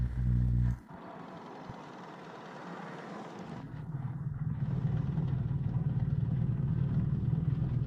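BMW R 1300 GS Adventure motorcycle cruising at 120 km/h: a short burst of loud low engine drone, then steady broadband rush of wind and engine hum that builds slightly and continues evenly.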